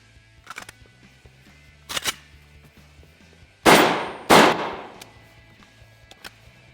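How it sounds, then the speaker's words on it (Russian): Test shots from a Vepr-12 VPO-205-03 semi-automatic shotgun: two loud, sharp blasts close together mid-clip, preceded by two quieter metallic clicks of the action, with no talking. "Сейчас проверим, это просто первый выстрел."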